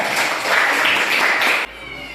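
A classroom of pupils applauds a classmate during a lesson on heat and changes of state, a dense burst of clapping that runs steadily for over a second and a half, then stops abruptly.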